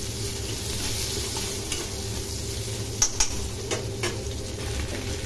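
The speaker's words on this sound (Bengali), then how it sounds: "রসুন কুচি, কাঁচা লঙ্কা কুচি আর ক্যারি পাতা তেলেতে ভেজে নেব।" Chopped garlic, green chilli and curry leaves fry in hot oil in a pan while making chicken 65: a steady, close sizzle with a few light stirring knocks partway through and no talking.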